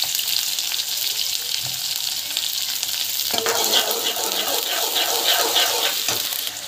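Mustard seeds and cumin sizzle in hot oil in a kadai, a steady dense crackle that grows busier midway with popping seeds, close and loud with no talk.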